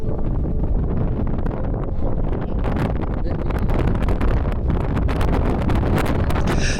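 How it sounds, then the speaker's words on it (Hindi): Strong wind buffets the microphone in a continuous, loud, broadband roar with gusty fluctuations, outdoors on a mountain road in the Chitral Valley, Pakistan, above a rushing river. "बहुत तेज़ हवा चल रही है। हवा का शोर भी बहुत है"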